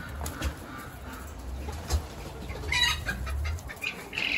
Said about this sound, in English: Of course, I got my turkeys here.